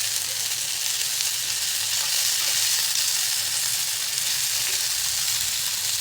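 Malai soya chaap frying in a pan on a home stove, a steady close hiss and sizzle of hot oil that holds even and loud throughout with no voices.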